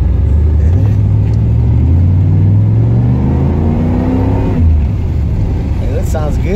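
Car engine without straight pipes, revving loud and close as it accelerates through rising gear pulls, a steady rumble underneath, with voices talking over it.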